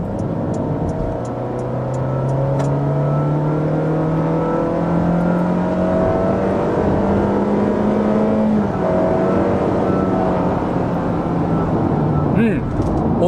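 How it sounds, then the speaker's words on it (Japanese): A 2024 Honda Freed gasoline model's engine revs hard at full throttle, pitch climbing steadily through the gears with a brief shift dip, loud and close throughout. "はい、全開踏みます。"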